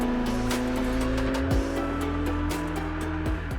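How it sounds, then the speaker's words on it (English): Porsche 911 S/T engine with a lightweight exhaust, droning loudly at steady revs with a sharp tonal note and brief shifts, heard close throughout. "The exhaust system itself is lightweight and it is loud"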